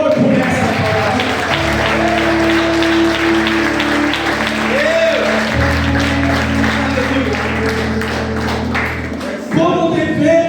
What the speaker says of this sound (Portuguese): Você pode aplaudir ao Senhor por essa palavra.